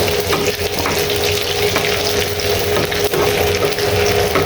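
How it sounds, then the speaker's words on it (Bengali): Garlic and onion fry in oil and ghee, a loud, dense, continuous sizzle heard close up with occasional stirring scrapes and no voices. "রসুন আর পেঁয়াজ, তেল, ঘি দিয়ে ভেজে নিয়েছি।"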